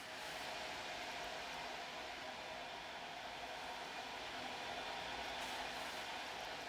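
A roller coaster train in Planet Coaster 2 runs with a steady, faint, even rumble and hiss that continues without a break and has no voices over it.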